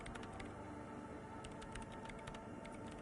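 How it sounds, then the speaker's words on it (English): Hands type commands into a machine in the video game Disco Elysium, a quick irregular run of soft key clicks over a low steady hum, close and moderately quiet, with no talking. "Her hands typing hundreds of commands into the machine."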